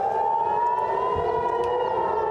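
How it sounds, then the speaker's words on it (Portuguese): Air raid sirens wail steadily across northern Israel, a sustained, slightly wavering tone heard from a distance with no voices over it. "Em território israelense, mais sirenes tocaram no norte."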